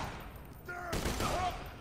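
Gunfire from a weapon in the video game Borderlands 2, a short rapid burst of shots lasting under a second, fairly quiet, with faint game sounds around it.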